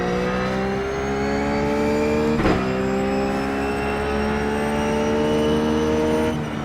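A Ruf GT3 race car in iRacing at Brands Hatch, its engine note droning loud and close, dropping with a downshift to third then climbing steadily as the throttle opens again.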